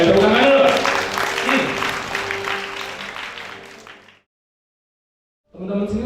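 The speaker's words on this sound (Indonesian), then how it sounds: "Oke, tepuk tangan dulu." Applause from an audience at a scholarship launch event, dense clapping with crowd noise and voices over it, fading out midway before a brief pause and resumed sound.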